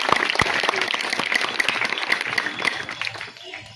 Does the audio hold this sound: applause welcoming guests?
yes